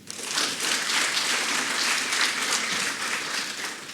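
An audience at a formal ceremony honouring the French president breaks into steady, dense applause that swells quickly and holds at an even level with no pauses.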